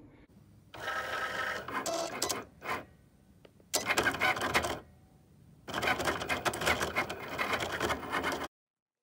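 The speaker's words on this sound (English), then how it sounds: "connect to your Explore Air Cricut with Bluetooth, and then bam, it will start printing." A Cricut Explore Air cutting machine runs in bursts, with busy mechanical whirring and clicking in several separate stretches split by short pauses, close and moderately loud.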